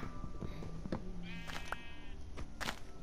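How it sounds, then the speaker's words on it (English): Sheep in Minecraft bleat in a few short, nasal calls over light background noise. "Shut up, sheep."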